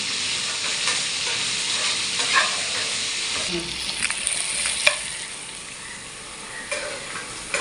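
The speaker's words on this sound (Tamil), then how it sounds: "இந்த சட்னி வதகிறது ஒரு 5 நிமிஷம் தான்." Yellow pumpkin chutney sautés in a pan, a steady close sizzle with spoon scrapes and stirring clicks running throughout, no voices.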